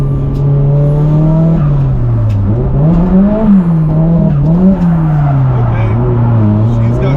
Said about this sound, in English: I've never even taken this car out of first gear.